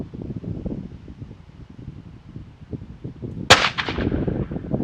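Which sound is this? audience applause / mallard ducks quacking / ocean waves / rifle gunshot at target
rifle gunshot at target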